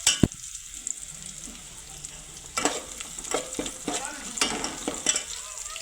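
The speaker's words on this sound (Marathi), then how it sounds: "त्याच्यामध्ये जिरे मोहरीची फोडणी देऊन आणि कोथंबीर कडीपत्ता टाकून घेतलेला आहे" Garlic, cumin and mustard seeds sizzle in hot oil as a tempering with coriander and curry leaves, a steady loud frying hiss broken by repeated spatula stirring scrapes.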